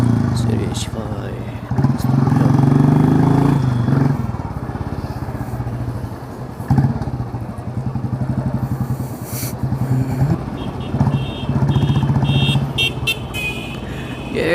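A scooter riding through Indian traffic, its engine droning close and steady with passing vehicles and occasional horn toots around it, while people talk over the noise.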